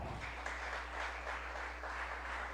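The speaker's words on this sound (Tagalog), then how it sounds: "Muli natin iparinig sa mahal na Panginoon yung ating pong masigabong palakpak" Congregation at a church preaching service claps together in a fairly faint, dense wash, with a steady low electrical hum underneath.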